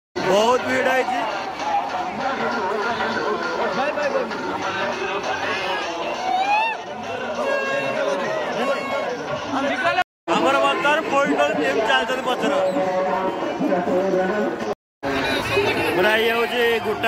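Dense crowd chatter fills a busy mela in Hyderabad: a continuous, loud babble of many voices close by, with people talking near the listener and brief dropouts in the sound.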